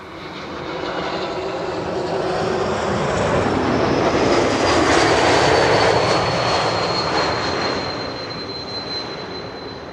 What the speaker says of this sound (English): E2 Embraer arriving from Birmingham